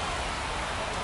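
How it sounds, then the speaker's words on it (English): Steady rain pours down during a baseball game in MLB The Show 25, a dense, even hiss of falling water filling the whole moment with no voices on top. "We're coming right up against it with the way this rain is coming down"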